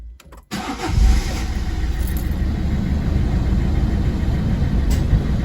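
Citroen C3 diesel engine cranks briefly and catches after a fuel filter change and bleed, settling into a loud, steady running rumble close by, with no voices.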